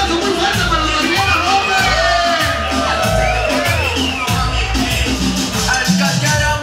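At a bikini contest in a bar, a dense, loud crowd cheers, whoops and shouts continuously, with applause folded into the noisy roar.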